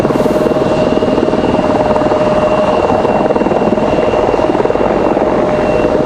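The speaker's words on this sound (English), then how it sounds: "Apache's trying to get out of here, it sounds like" An Apache helicopter departing Raleigh-Durham airport makes a steady, loud rotor chop and engine whine with a sustained high tonal hum, continuous throughout.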